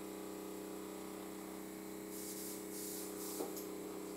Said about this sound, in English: to ensure that the look is going to stay and is completely waterproof, we're going to use the Airbrush